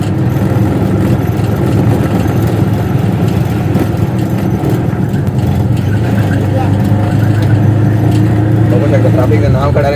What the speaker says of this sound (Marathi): सगळं ट्रॅफिक ट्रॅफिक झाला एकदम बेकारवाला